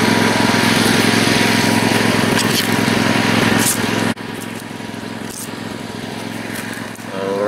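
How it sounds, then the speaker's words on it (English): A lawn mower cutting a big steep ditch, its engine droning loud and close, then dropping to a lower, steadier hum partway through. "I'm getting ready to mow this ditch"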